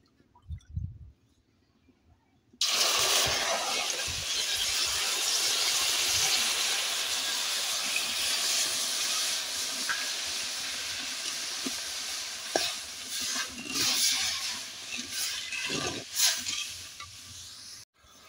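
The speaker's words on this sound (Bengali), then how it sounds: "এই যে চিনির শিরাটা দেখুন ফুটে উঠেছে" Sugar syrup for khaja boils hard in a pot, a steady loud hiss and bubbling roar that starts abruptly after a quiet moment and carries on with occasional pops and knocks.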